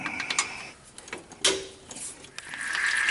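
Wrench ratchet clicks while loosening the filter bolts on an Allison automatic transmission: a few brief mechanical ticks and clanks, fairly close, with a steadier metallic rattle toward the end.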